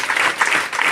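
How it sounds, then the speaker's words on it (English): An audience applauding at a gathering, a brief, loud burst of many hands clapping in a steady wash. "So let's clap for these people who have managed to give us the answer."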